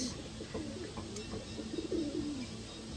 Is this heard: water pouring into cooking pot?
no